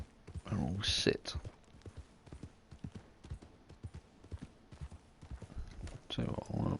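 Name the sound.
horse hooves clip-clopping in Red Dead Online video game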